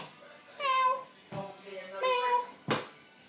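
A house cat meows nearby in three short, tonal calls separated by brief pauses, fairly quiet against a still room.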